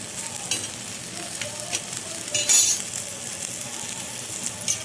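Ginger sizzles in a hot pan with dried red chillies for Kerala sammanthi, a steady close fry broken by a few scraping stirs and one louder clatter.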